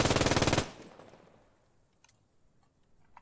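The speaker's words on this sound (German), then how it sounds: "Ah, genau, MG42, da interessiert natürlich wahrscheinlich viele Leute sofort die Feuerrate. So, kann ich es aus der Hüfte abfeuern?" An MG42 machine gun fired from the hip in the game Post Scriptum, a fast loud burst of rapid evenly spaced shots that cuts off abruptly, leaving a decaying echo and a few faint clicks.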